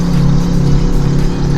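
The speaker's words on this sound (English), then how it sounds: "the motorcycle outside is very loud" A loud motorcycle idles and rumbles nearby outdoors, a dense steady engine drone with a strong low hum filling the whole moment.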